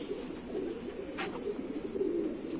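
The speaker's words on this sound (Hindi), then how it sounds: "ये कसूरी कबूतर है जी" A Kasuri pigeon, the white-faced breed also called Sabar Cheena or Teddy Cheena, coos steadily close by in a low, continuous murmur, with no voices.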